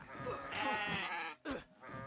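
Goats bleating in the video game Kenshi, several wavering, nasal cries overlapping loudly with a brief pause before another sharp bleat, set against busy fighting noise.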